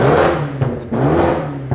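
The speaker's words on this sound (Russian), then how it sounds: "Даже отстрелы есть небольшие." A BMW M5 engine rumbles steadily up close, punctuated by a few short, sharp exhaust pops scattered irregularly through the idle.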